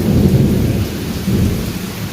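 Thunder rumbles low and continuous through a heavy rainstorm, with dense rain hiss filling the background throughout.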